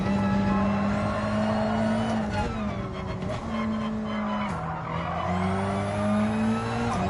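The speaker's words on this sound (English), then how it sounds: "This car whines like my Astra's gearbox, yeah. The entire car whines." A racing car in Gran Turismo 7 whines loudly with a high, gearbox-like tonal drone that rises and falls with engine speed across gear changes, joined by tyre squeal, close and continuous without talking.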